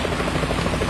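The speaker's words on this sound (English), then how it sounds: "Is that a chopper I just heard?" A helicopter approaching in the video game Metal Gear Solid 2 on PS2, its rotor thumping steadily and loudly, a dense rhythmic chop filling the whole moment with no voices.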